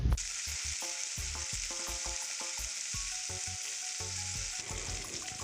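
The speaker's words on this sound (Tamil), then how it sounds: "சேர்த்து தக்காளி நல்லா மசிகிற வரைக்கும் நம்ம இதை வதக்கிட்டுடலாம்." Tomato sautéing in a hot pan with liver, ginger and garlic for a liver fry, a steady close sizzle broken by repeated scraping stir strokes throughout.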